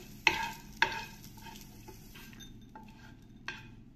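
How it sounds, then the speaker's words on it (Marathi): Green chillies and black peppercorns roast in a pan, with a faint, quiet sizzle and a few sharp spatula scrapes and clinks against the pan. "मिरची आणि मिरे आपण परतून घेतोय"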